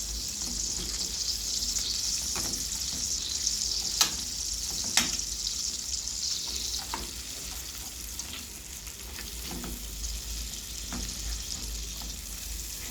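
Caramel with butter cooking in a pan for a tarte tatin, a steady soft sizzling and bubbling hiss with occasional light ticks and clicks of utensils, fairly quiet and close with no talking.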